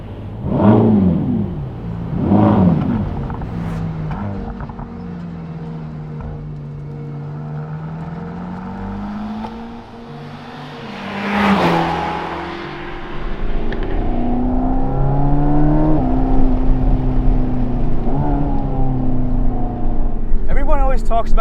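A 2021 Mercedes-AMG GT Black Series engine revs up and down in gentle bursts, close by, with a person talking over parts of it.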